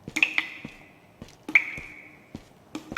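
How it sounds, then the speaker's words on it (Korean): Water drips in an abandoned house: a few slow, separate plinks with a short ringing tail, close by and quiet, in a hushed room. "여기구나 물 떨어지는 게"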